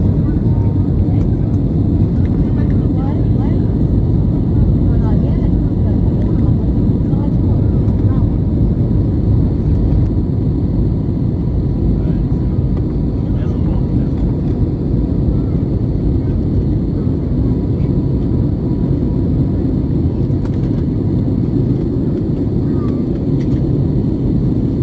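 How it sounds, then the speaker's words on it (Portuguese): Airliner taking off from Manaus over the Amazon forest, a steady loud broadband cabin roar of engines and airflow heard continuously from inside the plane, with no talking. "A decolagem tranquila."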